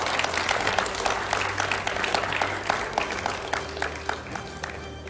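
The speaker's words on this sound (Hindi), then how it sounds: "इस सवाल के लिए मैं जोरदार तालियों के साथ स्वागत करता हूं" A studio audience at a televised political debate welcomes the guests with sustained, dense applause, a steady wash of many hands clapping that fades slightly near the end.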